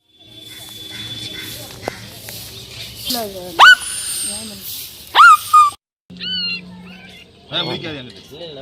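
Four puppies freshly rescued from burial in soil whimper and squeal in short high cries, close by, over a steady background hum and murmuring voices.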